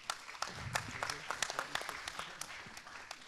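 Brief, scattered applause from a modest crowd at a startup pitch contest in Lorient, a few seconds of uneven clapping with a low murmur of voices beneath.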